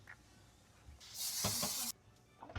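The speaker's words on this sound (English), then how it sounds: "I finally start spraying." A spray bottle hisses while a fridge is being cleaned out, one steady spray of nearly a second in a quiet kitchen, with faint clatter of handled items before and after.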